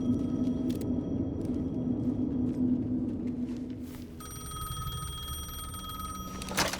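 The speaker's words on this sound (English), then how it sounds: "The payphone was ringing." Payphone ringing in Alan Wake 2: a bright electric bell rings in short bursts over a low rumbling ambience, then a steadier sustained ring takes over near the end.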